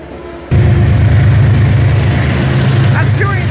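Metro North locomotive diesel engine idling at night at Croton-Harmon, a loud, steady low rumble that swells in abruptly and holds, with faint squeals near the end.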